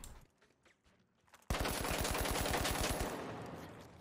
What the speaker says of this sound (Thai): AKM AKM จะเป็นปืน กลที่ยิงค่อนข้างจะรัวกว่า